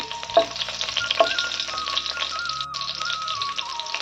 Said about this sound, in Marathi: मला थोडं परतून घेऊया